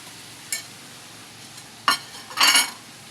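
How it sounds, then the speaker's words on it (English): A spoon stirring fried rice with chicken and carrots in a pan, giving three short scraping clinks against the metal. The last is the longest, each separated by quiet gaps. "And stir it very well"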